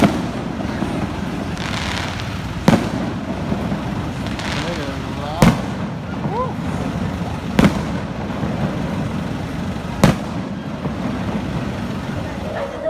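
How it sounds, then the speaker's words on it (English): Several sharp firework bangs burst at irregular intervals over a noisy outdoor city background in Kuala Lumpur, with crackle and distant rumble between blasts. "No idea why, but fireworks."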